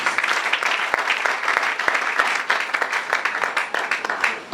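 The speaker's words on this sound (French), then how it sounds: "Acclamons très fort pour le Seigneur Jésus." Church congregation applauding, dense and loud clapping from many people that continues steadily throughout, fairly close and without speech.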